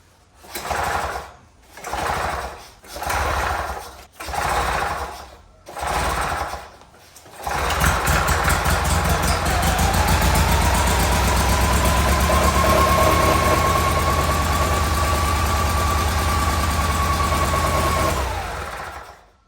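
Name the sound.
Vietnam era army generator engine running after mixture adjustment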